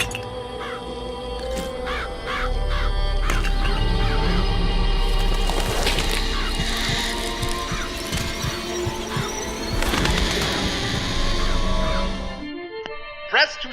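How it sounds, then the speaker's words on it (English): Crows summoned by a vigor power in the video game Bioshock Infinite caw and flap in a loud, dense swarm for about ten seconds, mixed with crashes and game hum, before cutting off abruptly. "Press to summon murderous crows."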